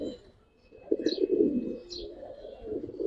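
Kaldam pigeons coo softly and close by at a pigeon market, a few low, throaty rolling calls with faint chirps above them against a quiet background.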